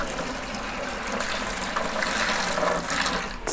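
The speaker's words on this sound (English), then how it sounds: "all I'm doing is carefully pouring the water out into these" Water poured carefully out of a jar holding a betta fish into buckets, a continuous close splashing and trickling pour that swells slightly toward the end, with no talk over it.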